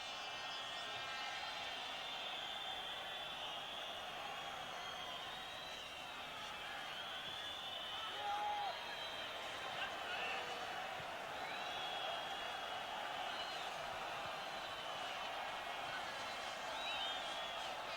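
Benfica fans in a football stadium during a 1990/91 match against FC Porto let out scattered, distant whistles over a constant low crowd murmur, faint throughout.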